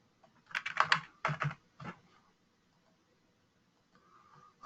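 A short burst of keystrokes on a computer keyboard while entering a password for a local admin account, quick and fairly close, followed by near silence and a faint trailing click.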